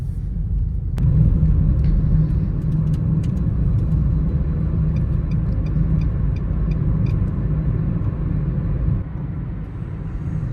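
A car running on a nearly empty gas tank drives on a desert road near Wadi Rum and Petra, a steady loud engine and road rumble with faint ticking, continuous throughout, no talk.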